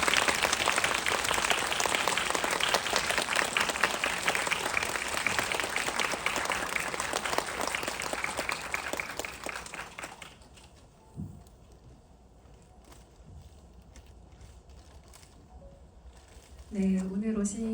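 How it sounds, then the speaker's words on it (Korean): A cinema audience at a CGV screening in Yeongdeungpo gives a long, loud, dense round of applause to welcome the film's director and voice actors, sustained for about ten seconds before fading into quiet room tone. "박수로 맞이해 주세요."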